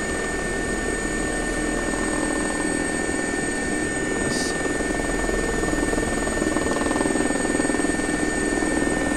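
Air ambulance helicopter in X-Plane 11 slowing down, its rotor and turbine droning loud and steady throughout with no talk.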